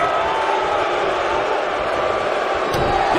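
Capacity arena crowd in the WWE 2K19 wrestling game, a steady wash of cheering and murmuring roar throughout, fairly loud with no pauses.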